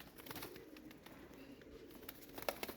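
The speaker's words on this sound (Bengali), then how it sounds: "এটা নর কবুতর" Pigeons in Old Dhaka give faint, low cooing calls, soft and somewhat distant, with a slightly louder burst near the end and no voices.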